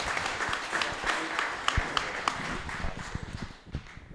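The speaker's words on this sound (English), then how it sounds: "Firstly, a round of applause for young George." An audience at a football club fans' forum applauds, a moderate, steady patter of many hands clapping that fades out at the end.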